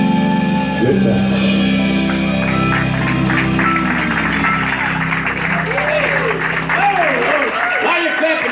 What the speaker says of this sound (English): While you're clapping, give this band a big hand.